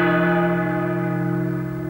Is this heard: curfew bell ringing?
yes